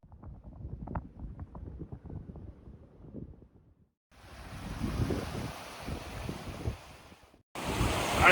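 Rushing water at a waterfall-type stream crossing on the Aconcagua approach near Confluencia, a steady broadband roar that dips briefly, then returns louder and closer, with a sudden loud burst at the end.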